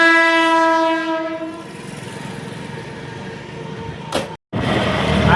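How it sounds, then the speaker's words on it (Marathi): A passing train sounds a long sustained horn blast that fades out, followed by the rumble and rattle of the rail cars going by nearby, heard from a road on the way from Virar toward Kasara. "बघा ट्रेन आली."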